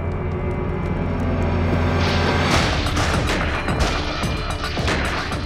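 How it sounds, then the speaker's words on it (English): Gunfire as Billy the Kid shoots his way out of the back of the burning McSween house, a loud dense barrage of overlapping shots and booms over a continuous roaring backdrop, with no voices. "He comes out of the back of the McSween house, guns blazing."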